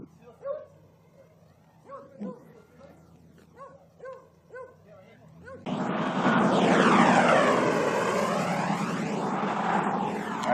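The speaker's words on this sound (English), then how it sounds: "That is a jet." A jet airplane passes overhead with a broad, swelling roar that rises suddenly and sustains loudly, after a stretch of repeated dog barks and yips.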